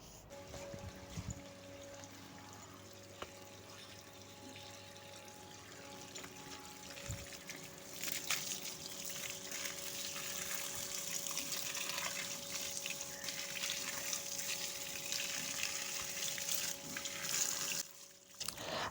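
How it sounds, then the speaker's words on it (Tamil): Water gushes and trickles onto garden plants during watering, a faint steady splash that grows louder after the first few seconds and continues with small fluctuations, a low hum underneath and no talking. "காலையில் தண்ணி விடலை, அதனால தான் இப்போ தண்ணி விட்டுட்ருக்குறேன்."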